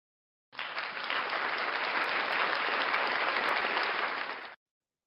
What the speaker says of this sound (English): I say we give Wichita Trinity a round of applause.